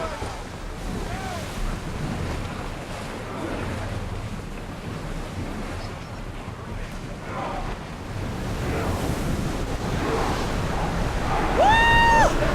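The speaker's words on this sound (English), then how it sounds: "Feel that wind!" Wind and ocean waves while sailing a ship in Assassin's Creed Odyssey, a broad, steady rush of wind and surf that swells louder toward the end, with a short tonal game cue at the finish.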